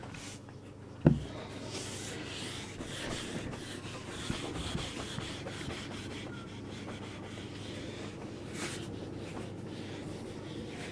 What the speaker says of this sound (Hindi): रब करता हूँ इसे